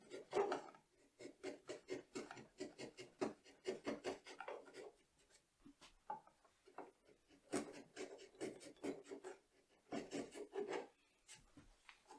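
A hand tool pares wood across the grain on a credenza frame rail, making repeated short rasping strokes in a steady back-and-forth rhythm, close and fairly quiet, with brief pauses between groups.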